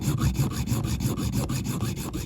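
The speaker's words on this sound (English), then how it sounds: "I'm going to make do with the old trusty junior hacksaw" Close and rapid, a junior hacksaw works on a Corgi Mercedes ambulance diecast model being turned into a banger racing car. Quick rasping back-and-forth strokes repeat in an even rhythm throughout, with no talk.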